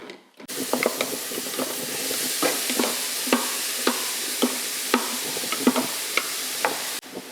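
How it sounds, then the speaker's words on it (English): Vegetables sizzle steadily in a hot pan, a close continuous hiss broken by frequent crackles and stirring clatters, with no talking. "Oh, I can hear it sizzling over there already."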